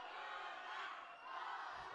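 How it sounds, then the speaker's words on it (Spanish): Fans of rival Toluca and Zitácuaro shout back and forth in a wrestling arena in Zitácuaro, Michoacán, a dense, continuous crowd roar heard from within the hall. "Y siguen los gritos entre Toluca y Zitácuaro."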